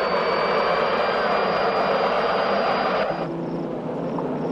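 Loud, steady engine roar with a high whine from a helicopter close by, continuing throughout and easing slightly near the end.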